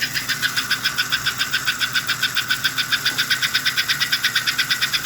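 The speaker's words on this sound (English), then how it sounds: "this motor is running with the original 1947 magnet, a permanent magnet from 1947 is still running the engine" The motor of an American Flyer 312 K5 model train locomotive, fitted with its original 1947 permanent magnet, hums steadily with a fast, even pulsing chug, close and loud, without speech.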